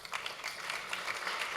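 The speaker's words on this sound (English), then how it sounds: "all the men in the audience are applauding that" Applause from men in a basketball-talk audience, a soft steady patter of many hands clapping heard from a distance, with no talk over it.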